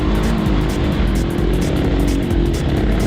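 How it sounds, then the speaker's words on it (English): A Sherco 500SEF 500cc enduro motorcycle rides an open track, its big-bore four-stroke thumper engine holding a loud, steady mid-range drone with rhythmic pulsing throughout. "I love a big bore thumper for open tracks."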